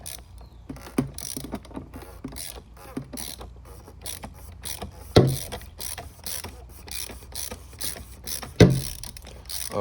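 Ratchet with a long extension spinning an oil filter off a Mercedes-Benz C250, quick clicking pawl runs with a couple of sharp knocks, close and fairly quiet.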